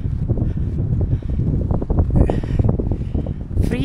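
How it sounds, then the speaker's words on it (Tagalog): Strong wind gusts through woodland during a hike in Bamford, a steady close rushing roar with buffeting on the microphone and a brief brighter rustle near the end. "pero ang lakas pa rin ng hangin."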